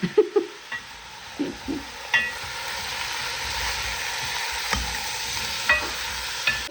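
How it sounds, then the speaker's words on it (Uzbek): Food sizzles steadily in a hot pan while a utensil stirs and scrapes it, with several sharp clanks early on, close and loud, no speech. "Yaxshilab qovurib oldik."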